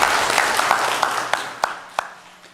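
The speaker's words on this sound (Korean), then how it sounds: "박수를 우리 하나님께 올려드리겠습니다" A church congregation at a Sunday morning worship service claps in praise, a dense burst of applause that thins into a few scattered, separate claps as it fades.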